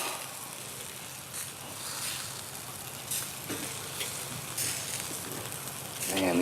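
BBQ chicken sizzles and crackles steadily on a Weber grill, a constant broad hiss with occasional louder pops, heard close and alone.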